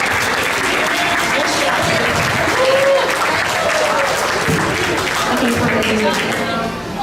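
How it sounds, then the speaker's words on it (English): A school concert audience gives a full, steady round of applause for a young snare drum soloist in a beginning band, loud and continuous with voices mixed in, easing slightly at the very end. "how about a special round of applause for our snare drum soloist back there, Ian."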